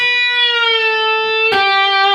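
Electric guitar with a distorted tone sustaining a bent note in the solo, letting it down with a slight pitch drop, then a fresh pick attack rings out near the end, played alone.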